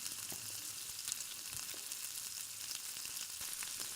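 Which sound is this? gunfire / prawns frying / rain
prawns frying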